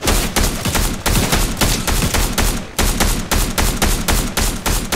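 Rapid explosive rifle fire in the Fortnite video game, loud, dense bursts of shots repeating steadily with only a brief gap, dominating the mix with no talking.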